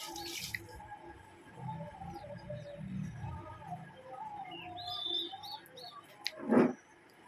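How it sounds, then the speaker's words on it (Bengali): Small birds chirping and twittering in a leafless tree beside a rooftop, scattered faint calls over low background noise, with a louder close chirp near the end. "কী সুন্দর পাখিগুলো কিচির মিচির কিচির মিচির করছে"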